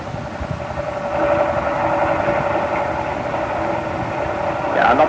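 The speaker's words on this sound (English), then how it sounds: "we shall have to use our motors to pull ourselves free" Ship motors driven at full speed ahead in a radio drama, heard as a steady rumbling engine drone with a vibrating, train-like throb that holds for several seconds and swells slightly at the end.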